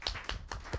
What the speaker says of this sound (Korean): 여기 계신 모든 스태프들 박수라도 좀 쳐요